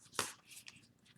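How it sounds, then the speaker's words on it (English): A deck of tarot oracle cards is shuffled, one quick riffle burst followed by a few soft flicks and papery rustles, close but quiet. "So let me just kind of give it a shuffle."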